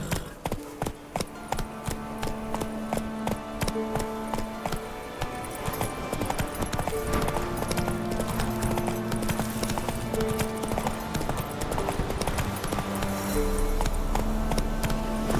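Geralt's horse Roach galloping in The Witcher 3, hooves pounding out a fast, steady clip-clop rhythm up close, layered with game music and ambient sound.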